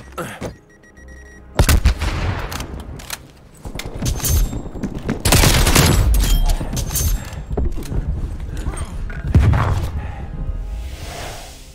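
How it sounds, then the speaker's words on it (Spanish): Artillery strike in Call of Duty: Black Ops Cold War multiplayer, with heavy booming blasts and thuds in repeated waves, rumbling explosions layered over whooshes and scattered gunfire, loud throughout. "Ataque de artillería en camino."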